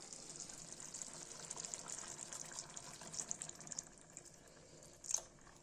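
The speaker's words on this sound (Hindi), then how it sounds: "थोड़ा सा दूध डाल देंगे" Faint, steady pouring of milk into a pot of shahi paneer paste, a soft continuous trickle that tapers off, with a small clink near the end.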